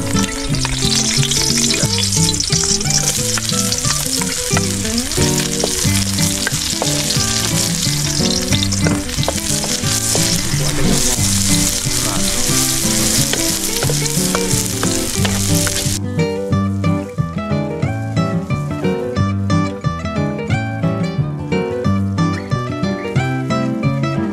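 Large prawns sizzle loudly in a hot pan with garlic and vegetables, a dense, steady frying crackle with stirring clatter throughout and no voices.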